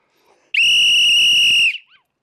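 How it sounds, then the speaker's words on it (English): A single loud, shrill whistle blast held for about a second, then cut off sharply. "My whistle works though. Watch this."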